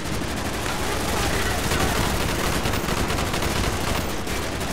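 Dense, continuous automatic gunfire rattles nonstop in a Call of Duty: Black Ops Vietnam campaign battle, loud and harsh, with overlapping bursts and no break.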